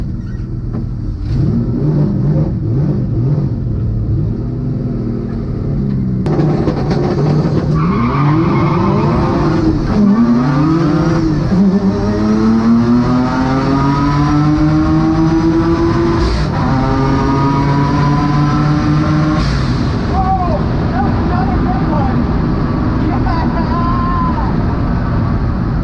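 Twin-engine Suicid3 MX3 drag car on a pass, loud engines climbing steadily through the gears with tire squeal and a howling drone, close and continuous throughout.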